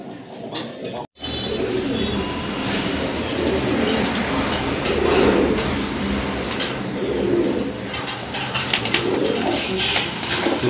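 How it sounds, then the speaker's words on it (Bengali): Pigeons coo softly and repeatedly, with low burbling calls close by, over a steady background rumble. "মাশাল্লাহ আরেক জোড়া কবুতর দেখেন"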